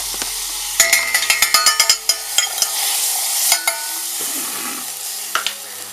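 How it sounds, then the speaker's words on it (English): Butter for pancakes melts in a hot pan with a low steady sizzle, and a quick run of sharp metallic taps and scrapes from a utensil against the pan sits over it. "Step 3, melt the butter."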